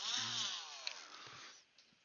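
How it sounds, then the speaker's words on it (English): A small drill whines briefly through a broken P61-C propeller, close and high-pitched, then winds down and fades into quiet. "And just gently drill through there."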